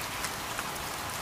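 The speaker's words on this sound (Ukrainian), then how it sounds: "дощ" Rain falls steadily in a dense, even hiss of drops, with no voices over it.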